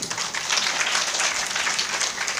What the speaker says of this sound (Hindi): तालियां अब यहां बजाइए